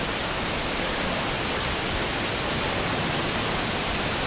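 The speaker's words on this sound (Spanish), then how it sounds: "Aquí estaba la cascada." A jungle waterfall in Bali roars as a dense, unbroken wash of falling water, loud and steady with no other sounds.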